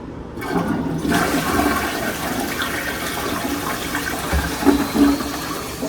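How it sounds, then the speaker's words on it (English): A hotel bathroom toilet flushes nearby with a rushing gush of water that churns steadily and then gurgles as it drains. "Let's do a flush test."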